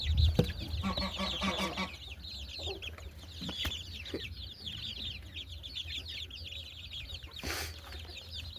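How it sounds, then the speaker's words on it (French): A small hen and a rooster cluck repeatedly at close range, with quick overlapping calls over a low steady rumble. The calls are busiest at the start and fade to scattered clucks. "Une petite poule et mon petit coq."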